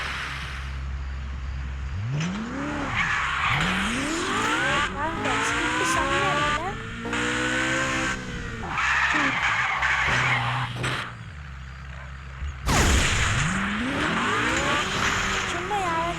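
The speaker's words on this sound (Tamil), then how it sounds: "இதுதான் அந்த காவாசாக்கி பைக்கு" A Kawasaki motorcycle in a gangster video game screams through repeated rising and falling revs as it races. Shifts and short pauses break up the whine, and tire squeal joins in near the end.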